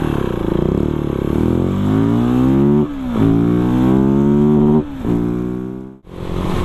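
A Husqvarna 701 supermoto motorcycle accelerates hard from 0 to 100 km/h, its engine climbing in pitch through three or four gears with brief dips at each shift, loud and close with no voices.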